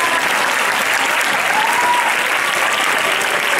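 A large crowd applauds loudly and continuously at a 2015 graduation ceremony after a student is honored, a dense, even wash of clapping with a faint murmur of voices underneath.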